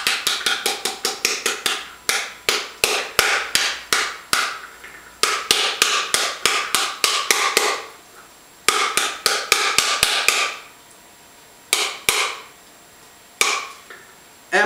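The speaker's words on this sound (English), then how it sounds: "Hitting on the top, hitting on the sides," Sharp, loud thwacks of a wooden spoon or utensil smacking a pomegranate shell to knock out its seeds, rapid bursts of evenly spaced blows separated by short pauses, close and with no talking.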